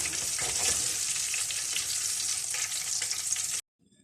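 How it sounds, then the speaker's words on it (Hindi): Crispy spicy chicken frying in hot oil makes a dense, steady crackling sizzle close by, then stops abruptly into near silence; no voices. "अब मैं इनको निकाल लूँगी और बाकी चिकन भी इसी तरीके से फ्राई कर लूँगी"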